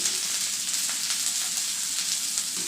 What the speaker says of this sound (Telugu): విధంగా వేయించుకోవాలండి ఇట్లా నూనెలో వేగేటట్టుగా చూసుకోవాలి